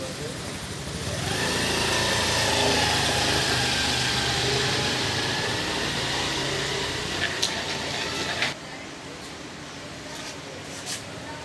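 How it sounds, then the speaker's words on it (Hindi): Several motorcycles pass along a street, a sustained engine roar that holds for several seconds and then drops away abruptly, with people talking nearby. "अभी देखो कितने मोटरसाइकिल वाले गए"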